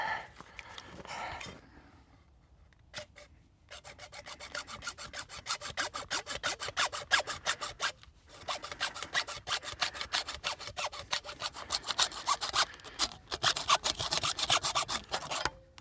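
Conduit for an off-grid solar power shed is cut by hand, a close, dry rasping stroke repeated in a fast, even rhythm, pausing briefly twice before resuming.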